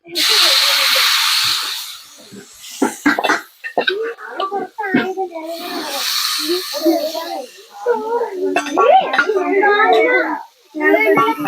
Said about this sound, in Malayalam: ഉരുളക്കിഴങ്ങും കൂടി ഈ എണ്ണയിൽ വറുത്തെടുക്കണ്ട കേട്ടോ